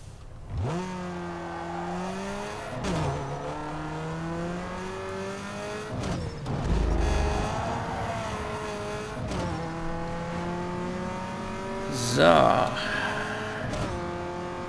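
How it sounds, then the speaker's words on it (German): A race car in the video game Need for Speed Underground 2, with only its engine tuned, laps a circuit; its engine revs climb and drop through repeated gear changes, with a brief harsh burst near the end. "Komm, wir fahren jetzt mal mit Bobby einen Rundkurs. Den müssen wir mal warm fahren."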